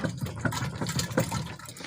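A container of milky water mixture, a parasite treatment on a pig farm, is shaken by hand, giving rhythmic close sloshing and splashing pulses.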